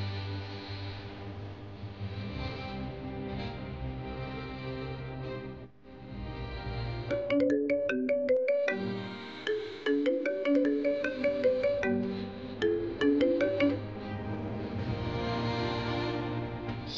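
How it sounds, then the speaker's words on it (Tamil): A phone ringtone plays as a melodic electronic tune over a music bed, its repeating notes ringing out again and again across the scene in a Tamil TV drama. "யார் போன் பண்ணிக்கிட்டே இருக்காங்க?"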